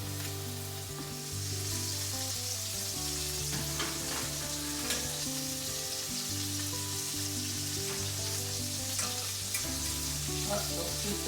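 Onions sizzle steadily in a pan while being caramelized beside calf's liver, a continuous frying hiss under sustained background music.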